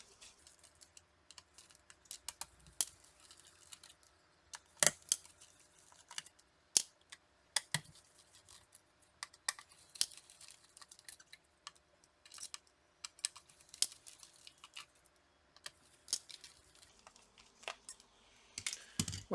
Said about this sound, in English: we're going to remove the 4 screws which are holding the cooler